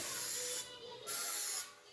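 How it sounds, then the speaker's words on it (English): Two short hissing bursts of oil spray coat chicken legs for an air fryer, close and fairly quiet, with a brief pause between them and no talking. "All right, so now spray that other side"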